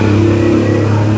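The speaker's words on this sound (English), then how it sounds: "these motos, as the natives call them, start revving up from 5 a.m. and continue until late at night" A motorbike engine revs loud and close on a street in San Martín de los Llanos, Colombia, a brief growling burst with a deep, throbbing drone.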